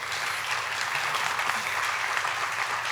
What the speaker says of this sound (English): Let's give a round of applause for Maryland Citizens for the Arts.